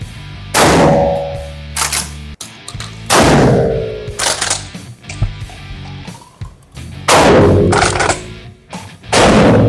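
A Saka Arms FP12 foldable shotgun fires several spaced, sharp, very loud blasts, each followed by a ringing metallic decay and a short tail, with brief quieter handling clicks in between and no talk.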